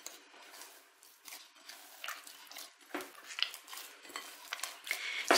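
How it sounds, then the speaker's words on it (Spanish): Vegan bread dough with extra virgin olive oil being kneaded and mixed in a bowl, soft irregular squelching, slapping and scraping strokes up close, quiet with no speech. "Y a amasar."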